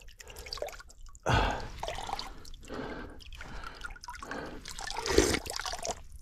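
Water running from a small roadside drinking fountain on a mountain bike trail, close splashing and dripping in uneven surges, heard alone.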